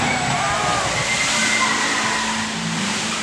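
A killer whale at a marine park pool performs a side reach, throwing up a steady, loud rush of sloshing water that surges continuously, with faint crowd noise beneath it.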